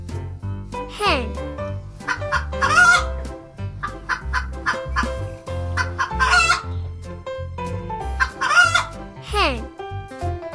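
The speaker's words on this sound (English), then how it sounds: "Hen." Hen clucking and crowing repeatedly in short rhythmic bursts over a bright cartoonish music bed, with a rooster-like call among the fowl sounds, loud and close.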